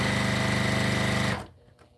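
A sewing machine stitches fabric with a steady, rapid mechanical whirring that runs loud and close, then stops, leaving faint room noise.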